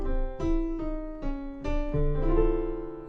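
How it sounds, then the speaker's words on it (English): Piano plays a jazz enclosure exercise, a run of distinct notes with a few sustained tones, clear and close, with no voices. "So this one, it's going to sound like this on piano."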